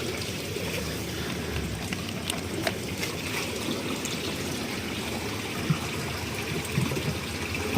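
Water poured out and discarded after releasing tambaqui fish, a steady splashing, gushing flow that continues evenly with occasional small knocks.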